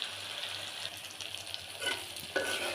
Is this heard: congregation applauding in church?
no